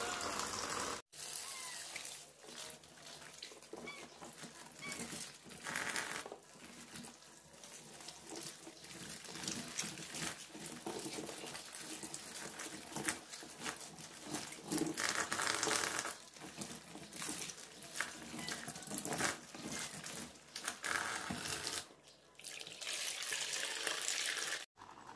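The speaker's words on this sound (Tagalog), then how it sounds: "Bago natin tanggalin to, hugasan muna natin lahat para hindi mahirap siyang hugasan." Chickpeas being rinsed under a running kitchen tap to wash off mud, a steady broadband rush of water splashing in a sink with occasional stirring and brief breaks in the flow.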